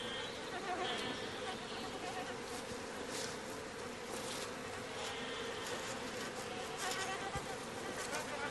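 A large colony of bees buzzes around their nests in a dense, continuous hum. It stays fairly faint, with a voice likely talking over it.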